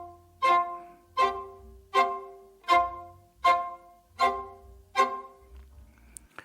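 Viola doubling an electric guitar part, seven separate sustained notes repeating at an even pace, each with a clear swelling attack, heard alone and close.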